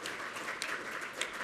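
Conference audience applauding panelists at an agribusiness and manufacturing investment masterclass: a faint, distant wash of many hands clapping continuously through the short stretch.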